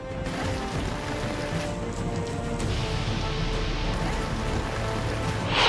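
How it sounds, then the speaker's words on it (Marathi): Heavy monsoon rain in Vidarbha pours down in a steady, dense hiss, unbroken for the whole stretch, with no voices. "विदर्भात पावसाचं धुमशान"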